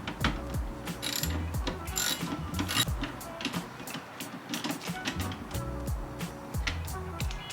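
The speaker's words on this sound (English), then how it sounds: "8mm nuts that have to be taken off of two little metal screws in here that are attached to the taillight housing." Small 8mm nuts come off metal studs on an MK7 tail light housing to a steady run of close ratchet clicks, with short pauses between bursts and a faint mechanical whir underneath.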